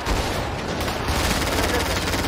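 Dense gunfire rattles through a tactical video game match as continuous rapid bursts, close and loud, with no gaps across the short stretch.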